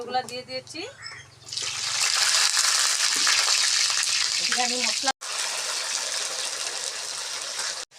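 Potatoes frying in hot oil for a home-cooked mutton curry, a loud steady hiss that starts after a brief voice and runs on almost unbroken, with a short cut midway.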